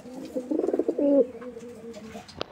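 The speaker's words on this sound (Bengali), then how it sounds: "এগুলো গিরিবাস কবুতর, নটটা রাজশাহী গিরিবাস।" Rajshahi Giribaz pigeons coo close by in a soft, throaty rolling burst that swells into one longer drawn-out coo, with faint shuffling and brief clicks trailing after.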